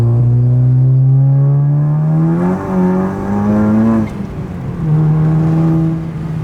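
A 500hp VW GTI accelerates hard, heard from inside the car: the engine note climbs loudly, drops briefly at a gear shift, then climbs again, with a second shift near the end.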